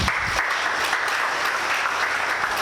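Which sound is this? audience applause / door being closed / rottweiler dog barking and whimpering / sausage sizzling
audience applause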